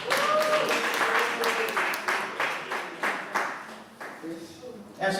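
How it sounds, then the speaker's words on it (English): An indoor youth event audience breaks into clapping, a scattered run of claps that builds and fades over a few seconds, with voices chattering over it. "let's clap her up when she comes."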